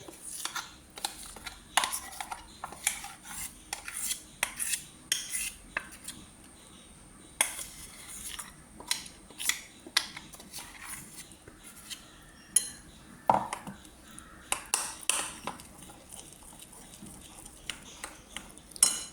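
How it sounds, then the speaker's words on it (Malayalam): Ground colocasia paste being scooped into a bowl in a kitchen, with repeated sharp metallic clinks and scrapes of a spoon against a steel vessel in an irregular rhythm, close and fairly quiet. "അരച്ച് കഴിഞ്ഞ് ഇനി ഇത് നമുക്കൊരു പാത്രത്തിലോട്ടിടാം."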